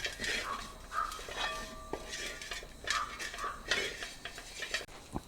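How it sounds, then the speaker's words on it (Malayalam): Onion, ginger and garlic sautéing with a packet of chicken masala in a pan, heard as close, repeated stirring and scraping of a utensil against metal with light clinks, steady throughout without talk. "ഈസ്റ്റൻ്റെ ചിക്കൻ മസാല പത്ത് രൂപേൻ്റെ ഒരു പാക്കറ്റ് മസാലകൾ ചേർത്ത് സവാള ഇഞ്ചി വെളുത്തുള്ളി എല്ലാം നന്നായിട്ടൊന്ന് വറുത്തെടുക്കുന്നുണ്ട്"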